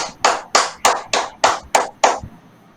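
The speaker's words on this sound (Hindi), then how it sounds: "जोरदार तालियों में स्वागत कीजिएगा" Eight sharp, evenly spaced claps ring out close and loud, each decaying quickly, at an evening stage event where an audience welcomes a speaker.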